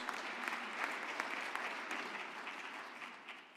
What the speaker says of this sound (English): let's give Professor Magadze another firmer hand of applause